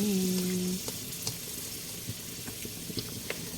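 Pork cubes frying in a pan and being stirred, a steady sizzle with scattered scraping and clinking of the utensil after a brief tonal hum at the start.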